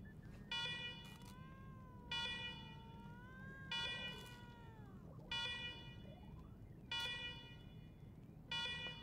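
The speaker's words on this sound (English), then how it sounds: "let's talk after you kill the alarms. I can hardly hear myself think." In the video game Wasteland 3, blaring electronic alarms repeat in steady, evenly spaced bursts of about a second each, alongside a wavering siren-like tone, loud and continuous throughout with no talk.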